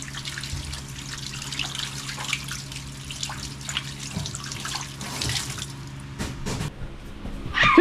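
Tap water runs steadily into a sink for hand washing in a home kitchen, a continuous close splashing with a few louder surges near the end, and no one speaks.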